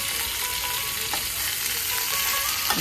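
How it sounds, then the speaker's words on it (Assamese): Fish fries in a pan with a steady, close sizzle and crackle, faint occasional clinks of a utensil, and no talking. "এইখিনি মাছ ফ্ৰাই হ'ল"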